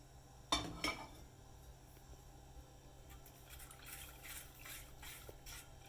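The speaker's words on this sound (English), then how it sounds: "Milk and sugar mixture in it and continue whisking." A whisk clinks against a cooking pot while stirring milk, sugar and egg yolk, one sharp metallic knock at first, then quieter, irregular scraping and tapping strokes, close and unaccompanied by talk.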